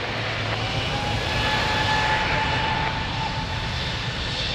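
A fixed-wing aircraft takes off at Lisbon Airport, a loud, steady engine roar with a faint tonal whine. It holds constant throughout and sounds fairly close.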